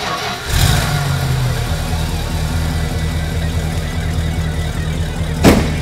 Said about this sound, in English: This little thing's like a sewing machine. Just sitting there purring, listen to that.